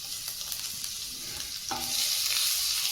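Small amount of ginger and garlic sautéing in hot oil for a chicken salad, a soft continuous sizzle with light stirring scrapes, growing a bit louder near the end, no voices.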